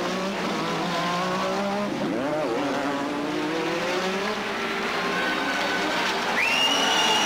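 A Formula One race car takes the checkered flag. A loud, continuous high engine whine rises and falls in pitch as it passes close by, with a brief sharp dip in the middle.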